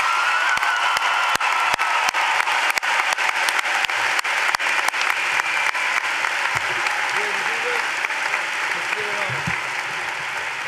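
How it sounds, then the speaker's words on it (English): An audience applauding at a high school commencement, a big continuous round of clapping with individual sharp claps standing out close by and a few voices underneath. "Let's give Jimmy one more big round of applause"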